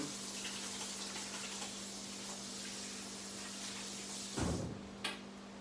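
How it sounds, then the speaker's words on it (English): Tap water runs steadily and softly at a sink while someone washes butter off their hands after pressing a crust. Near the end come a louder splash and a light knock. "Let me wash my hands off."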